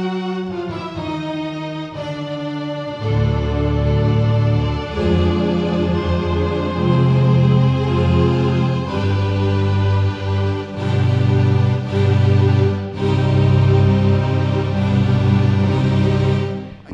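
Power sustains from an Orchestral Tools sample library swell as loud, sustained orchestral chords. Several held harmonies change every few seconds with strong attacks and an audible room ambience, and no voices are heard.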